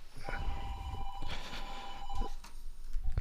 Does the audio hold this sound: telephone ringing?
yes